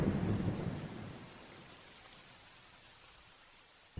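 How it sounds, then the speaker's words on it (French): A deep rumble of thunder rolls and fades over steady rain falling on surfaces, ending with a faint drip. "Un énorme éclair déchire le ciel."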